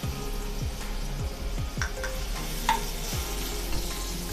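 Cumin seeds and chili paste sizzle in hot oil, a continuous frying hiss with scattered crackles and pops, steady and close, with no voices.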